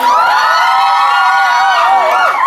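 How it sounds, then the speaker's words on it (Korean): Fans at a fan-signing event cheer and scream together in a sustained, loud, high-pitched roar that holds steady for a couple of seconds, with no talking over it. "함성 소리 한번 들려주세요"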